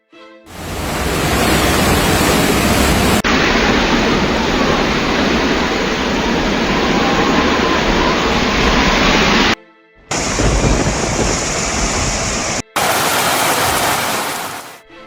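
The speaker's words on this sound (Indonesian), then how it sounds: "Hujan badai di Oman." Heavy rainstorm in Oman, a dense continuous roar of pouring rain and wind, loud and steady throughout with a couple of brief cuts, no voices.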